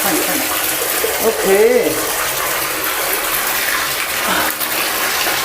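Water gushes steadily from a tap while a dog is bathed and shampooed at home, a loud continuous splashing flow throughout, with a person speaking briefly over it.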